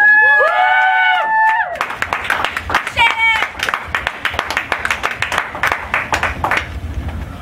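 A small audience greets a speaker at a comedy-style talk with sparse, distinct hand claps that follow a brief spoken introduction and then thin out over several seconds.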